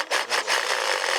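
Hand saw cutting through metal bodywork during a Volvo P1800 restomod, with fast back-and-forth strokes rasping loud and close in a steady rhythm.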